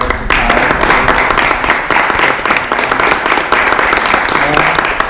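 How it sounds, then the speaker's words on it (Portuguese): An audience bursts into dense, continuous applause that fills the room loudly and holds for several seconds, with a voice faintly underneath. "E eu quero uma salva de palmas."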